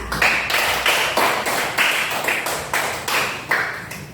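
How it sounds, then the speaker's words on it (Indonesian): Schoolchildren clap in a classroom in short rhythmic bursts, about ten sharp unison rounds of clapping in a steady beat, with no talking. "Tepuk tangan."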